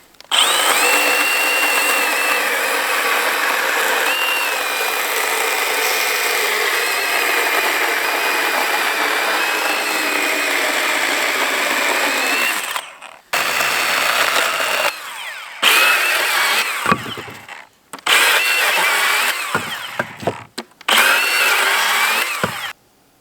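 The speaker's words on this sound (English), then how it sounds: "I've been using this Milwaukee hatchet for quite a while now, and I really like it. Cuts wood really nice and doesn't use a lot of battery." A Milwaukee Hatchet battery saw cuts wood at a snowy hot-tent camp: a loud, steady motor whine runs for about thirteen seconds, then comes in several shorter bursts with brief gaps between them.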